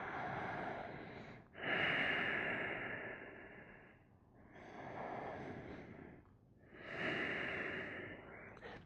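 Deep, slow breathing during a Happy Baby yoga pose in a morning class, three long breaths with strong airy inhales and exhales, close and alone.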